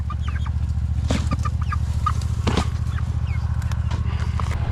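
A hen clucks in short irregular bursts close by, over a steady low mechanical hum, with other chickens faintly around.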